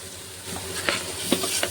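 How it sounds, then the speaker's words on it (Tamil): Chopped tomatoes tipped into a pan of sautéed onions for a goat head curry gravy, giving a steady close sizzle with a few stirring clatters and scrapes. "இந்த ஸ்டேஜில் நம்ம தக்காளி கொட்டிக்கலாம்."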